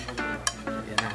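Boripop barley rice being stirred and mixed in a bowl with a utensil, giving a few soft scraping strokes and light clinks against the bowl, close and fairly quiet.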